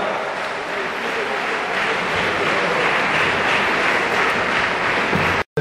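An audience at a sports awards ceremony applauds the prize sponsor, a dense, even patter of many hands clapping that holds steady for several seconds and then cuts off abruptly.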